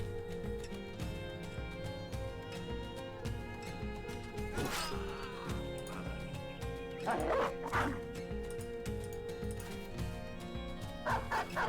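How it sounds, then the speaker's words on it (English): A dog in the video game Battle Brothers barks and yips in short bursts over a steady layer of game music and effects. "I was hoping the dog would go for him"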